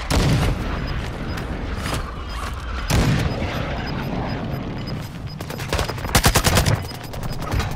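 Tactical shooter gunfire rings out in steady loud bursts throughout, with a tight rapid volley of shots near the end; no voices are heard.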